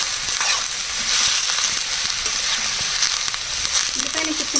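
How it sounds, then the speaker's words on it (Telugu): Onions and green chillies fry in hot oil with a sprig of curry leaves, giving a steady, loud, close sizzle with faint stirring scrapes throughout and no talking. "ఇదిగోండి ఆయిల్ వేడైంది ఉల్లిపాయలు పచ్చిమిరకాయలు వేసేసుకోవాలి అలాగే ఒక రెమ్మ కరివేపాకు కూడా వేసి బాగా వేగించాలండి"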